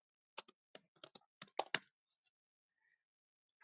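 Keystrokes on a computer keyboard while entering a product ID: about ten crisp, close clicks in a quick uneven burst, then quiet.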